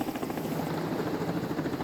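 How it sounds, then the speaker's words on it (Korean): Rescue helicopter hovering in a narrow mountain valley on a Korean ridge trail, its steady, loud rotor thump and engine roar continuous throughout, with no voices. "헬기는 고도를 잠시 높여 안전지대로 나가 대기했습니다."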